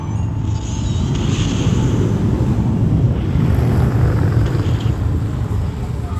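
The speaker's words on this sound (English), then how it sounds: "whole crew of motorcycles just went by." Group of motorcycles passing by a parking lot at night, a loud continuous roar mixed with wind buffeting on the microphone, steady throughout without clear individual engines.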